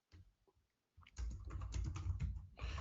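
Someone types on a computer keyboard: a few separate taps, a short pause, then a steady run of quick, close keystrokes.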